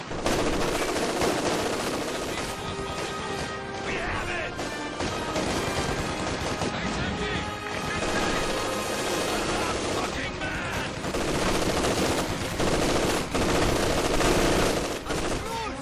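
Machine gun bursts rattle in a Company of Heroes 2 battle, dense overlapping gunfire and explosions running continuously through a busy wartime soundscape.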